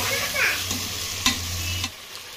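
Ginger garlic paste sizzles in hot oil in a pan while a spoon stirs and scrapes through it, a steady close fry with a few sharp clinks.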